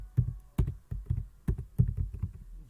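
Quick, close clicks of a computer keyboard as a command is typed, with irregular bursts of keystrokes in a quiet room.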